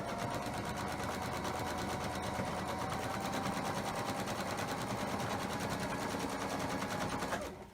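Sewing machine stitching a chain of quilt blocks, a fast steady mechanical rattle held close for several seconds before stopping abruptly at the end, with no talking.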